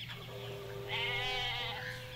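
Goat bleats from a Jurassic Park video game, a single drawn-out wavering cry heard clearly over a steady low game hum, with no talking.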